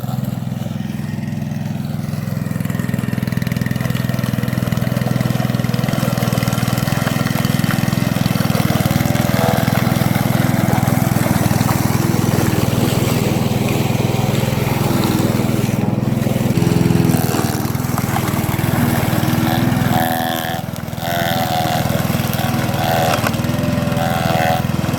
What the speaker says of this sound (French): je passe la tondeuse à gazon afin de broyer l'herbe qui commence à repousser